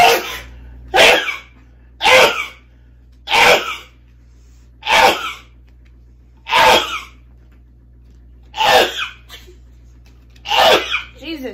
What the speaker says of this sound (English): Dad was so busy sneezing, he couldn't play cards.